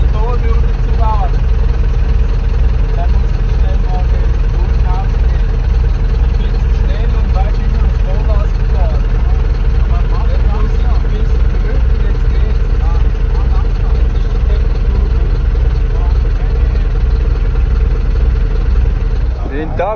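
A vehicle engine idles steadily at a stop during a desert drive, a constant low rumble that runs unbroken for the whole stretch before cutting off at the very end, with people talking faintly over it.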